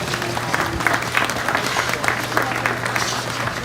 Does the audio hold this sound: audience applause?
yes